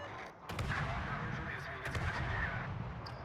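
Naval guns firing shells from a warship in a naval combat video game, a few heavy booming shots over a constant loud rumble of battle noise.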